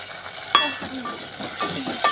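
Onions cooking in a pan until golden, with soft sizzling and a few sharp stirring scrapes and clinks of a spoon against the pan, fairly quiet and close, no talking.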